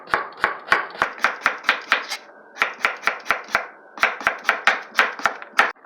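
A knife chopping a cucumber diagonally on a cutting board, rapid even thuds in two quick runs with a brief pause between, sharp, close and alone.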